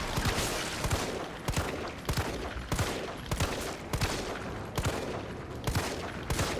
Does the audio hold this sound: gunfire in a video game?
yes